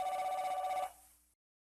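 An old cordless phone sitting on an end table rings with a rapid electronic trill that stops abruptly and fades out, with no voices present.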